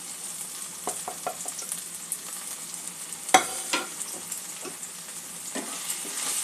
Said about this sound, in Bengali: মশলাটা ভালো করে একটু কষে নেব 2-1 মিনিট